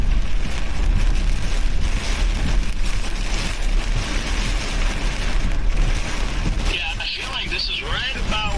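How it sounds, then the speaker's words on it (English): Strong wind roars through a Kansas supercell dust storm, a loud, sustained gusty rush with heavy low buffeting, easing near the end as a voice begins talking. "Here comes some more wind."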